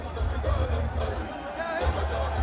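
A large crowd in Gaza City murmurs and calls out at a hostage handover to the Red Cross, a dense, fairly distant babble with indistinct voices rising and falling throughout.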